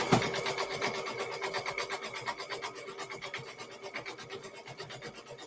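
A sewing machine stitches quilting through fabric, a fast, even mechanical chatter of needle strokes close by that keeps a steady rhythm from start to finish.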